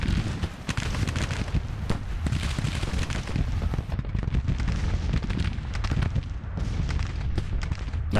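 Cannon artillery in the Grand Tactician battle game, a dense continuous barrage of booming shots and rumbling blasts that stays loud throughout, with no talk.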